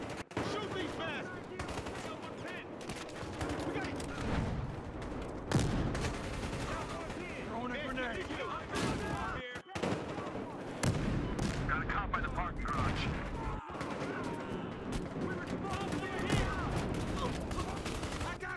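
Sustained gunfire in Battlefield Hardline, rapid automatic bursts and single shots crackling almost without pause, loud and near, with voices talking over the shooting at times.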